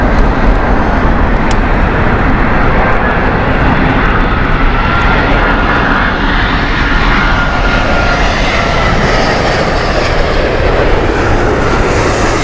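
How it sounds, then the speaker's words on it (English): A British Airways Airbus A350 jet at Heathrow, a loud, steady engine roar filling the whole stretch as the aircraft passes close by, no talking. "At San Diego flight with the Airbus A350 from British Airways"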